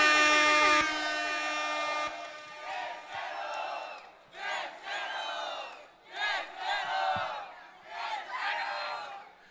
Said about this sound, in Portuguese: Palmas pra Batã.